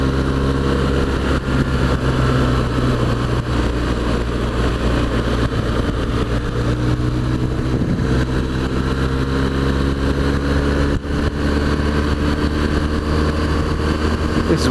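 BMW GS motorcycle engine droning loud and steady while riding on a country road loop, a continuous mid-pitched hum with wind rush and slight shifts in revs throughout.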